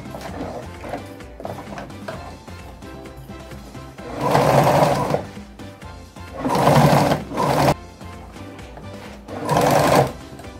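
A sewing machine stitches the hem of a hooded towel in three loud bursts of rapid whirring. Quieter stretches between the bursts carry faint handling noise.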